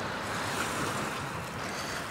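Steady broadband wash of sea waves and wind at a chilly seaside, continuous and fairly close, with no voices over it.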